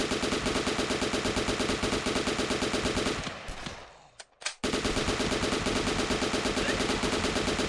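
Automatic fire from an AK rifle in the flash game The Last Stand, a loud rapid stream of shots that breaks off briefly around the middle, then resumes just as dense, no voices.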